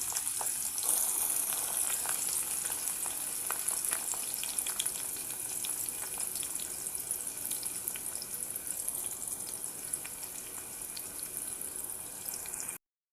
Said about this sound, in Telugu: ఆయిల్ వేడిన తర్వాత మనం కట్ చేసి పెట్టుకున్న ఆనియన్స్ అండ్ కరివేపాకు రెండు వేసుకోండి